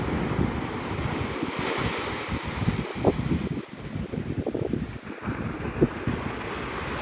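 Steady surf washes in at Navarre Beach, Florida, a close, continuous roar of breaking water with gusts of wind rumbling across the microphone.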